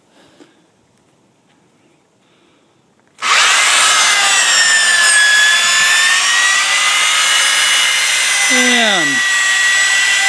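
A power drill winding in a heavy load, a 3,000-pound boat being pulled in by the drill at a lake, starts abruptly after near silence and runs loud and steady with a whining tone, dipping briefly near the end.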